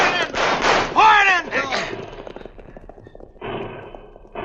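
Sound-effect gunfire in a 1953 Cisco Kid western radio drama: several sharp shot bursts, close and loud, alternating with a voiced exclamations before the sound thins to quieter rustle and a final burst.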